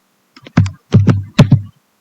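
Keys are typed on a computer keyboard while entering R code, giving a handful of loud, close clicks in quick pairs with a short pause between them.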